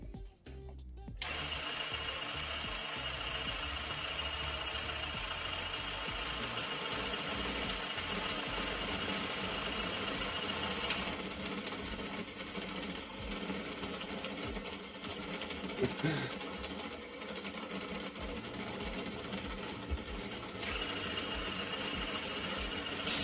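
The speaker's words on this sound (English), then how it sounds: "Now again I will pump the electrolyte into the cell." A small pump pushes electrolyte into a homemade aluminium-air flow battery cell, a steady mechanical whirring drone that starts abruptly and runs on without pause, close and fairly loud.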